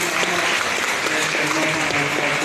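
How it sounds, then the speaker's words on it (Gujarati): Audience applause fills a church during a welcome for a visiting sadhu, a dense steady patter of many hands clapping throughout, close and fairly loud, with faint tonal music or murmur beneath. "આપણે તાળીઓ પાડીને પ્રભુ"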